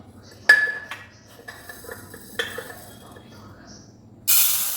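Lentils (dal) tipped into a metal cooking pot in a home kitchen give a sharp clatter and ringing clink, a second smaller knock and another clink, then a loud hiss of sizzling at the end.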